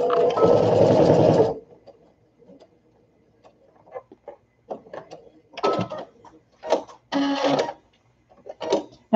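A sewing machine stitches fabric for a baby sunsuit in one dense, loud burst, then runs in short, choppy spurts separated by pauses, close by.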